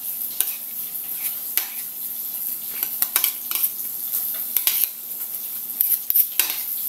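Tofu hits a hot sizzling plate for sisig tokwa, producing a continuous crackling sizzle punctuated by sharp scraping and clinking of a utensil against the metal plate, with no talk.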